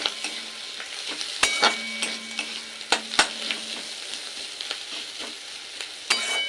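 Onions frying with chilli powder and turmeric in a pan, sizzling steadily while a spoon stirs and scrapes, with a few sharp clinks against the pan.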